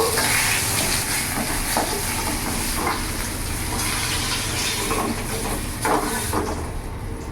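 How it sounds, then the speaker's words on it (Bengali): Pieces of rohu fish fry in hot oil in a pan with a dense, steady hiss and crackle, close and loud, with scraping clicks as the fish is lifted out. "মাছ ভাজা হয়ে গেছে। এবার আমি নামিয়ে ফেলবো।"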